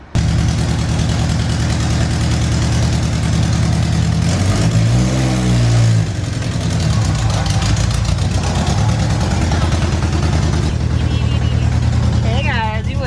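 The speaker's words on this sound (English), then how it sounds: "Oh my god, we're actually driving the CRX." Inside a Honda CRX under way, the engine drones loudly and steadily, with a brief rev swell midway, while people talk and exclaim over the noise.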